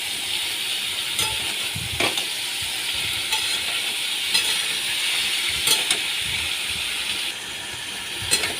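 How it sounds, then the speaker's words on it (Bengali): Chopped raw jackfruit fries in a pan with a steady, loud sizzle and hiss, broken by occasional scraping stirs and clinks of the spatula. "কেটে রাখা ইঁচড়গুলো আমি ভালো করে এবার ভেজে নিচ্ছি"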